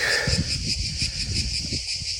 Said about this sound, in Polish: i cykady, które cykają.